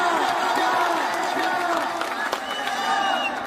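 A large outdoor crowd at a political rally with Bhojpuri stars, clapping and cheering in a dense roar of applause and voices heard up close, with someone speaking over it through a loudspeaker.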